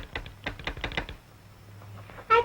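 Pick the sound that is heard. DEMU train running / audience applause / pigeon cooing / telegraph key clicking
telegraph key clicking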